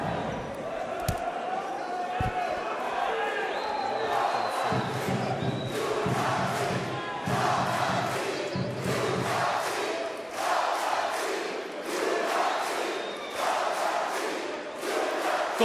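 Basketball fans in an arena chanting in rhythmic bursts during a league final, the loud crowd roar swelling and repeating while a commentator talks over it.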